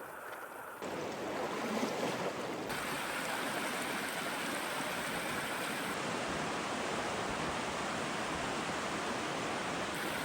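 River water rushes through the Narrows Canyon, a steady, broad roar of flowing water that holds even throughout, with no voices.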